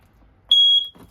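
A smoke detector in a 2022 Heartland Pioneer BH270 RV gives one short, loud, piercing beep of about a third of a second in an otherwise quiet interior.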